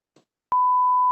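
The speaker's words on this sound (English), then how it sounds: "Beep it out, Larry." A single steady censorship bleep covering a swear word, a pure held tone lasting about half a second, loud and alone after a brief murmur of speech.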